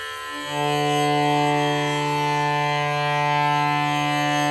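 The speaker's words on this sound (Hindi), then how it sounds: "तानपुरा प्ले हो रहा है" A tanpura drone hums continuously, its rich layered overtones ringing steadily and filling the space after a soft start.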